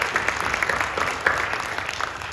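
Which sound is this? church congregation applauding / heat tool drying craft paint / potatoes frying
church congregation applauding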